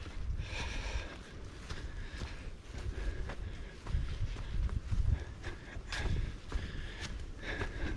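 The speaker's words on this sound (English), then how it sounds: "There is a bit of a wind." Wind gusting along a forest hiking trail, rustling leaves and buffeting the microphone in uneven surges of broadband noise, steady throughout with no talking.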